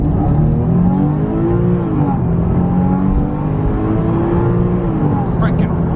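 A car pulls hard under acceleration on a test drive, its engine tone climbing steadily and loud from start to finish, close up inside the cabin with a continuous rising roar.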